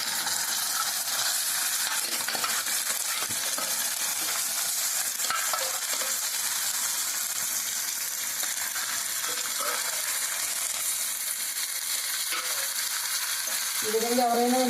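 Chicken pieces frying in hot oil with reddish-browned onions for a tamarind chicken curry; a dense, continuous sizzle holds steady throughout, with occasional stirring scrapes near the end.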